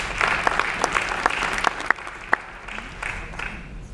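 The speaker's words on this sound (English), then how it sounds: "Give them a round of applause, guys." An audience at a real estate coaching training event gives a round of applause. Dense clapping with a few sharp individual claps fades gradually and thins out toward the end.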